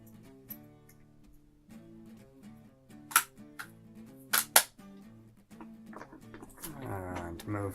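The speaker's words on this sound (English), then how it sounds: "Just quickly take off the trigger guard." Removing the trigger guard from a Smith & Wesson air pistol yields a few sharp metallic clicks and snaps close up, over a quiet tonal hum in the room, with small handling noises toward the end.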